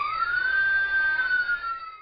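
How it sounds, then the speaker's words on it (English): A police car siren wails loud and close, a single rising and falling electronic tone sweeping steadily on its own with no talk. "You just have to listen for the police sirens."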